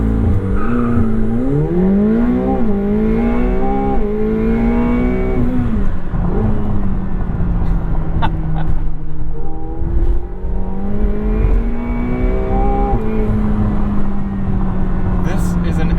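A 2021 McLaren 720S launches from a standstill at full throttle, its turbocharged engine revving hard and climbing through rising gear sweeps, loud and close, while someone talks over it.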